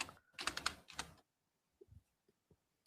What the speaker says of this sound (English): Keyboard's too loud.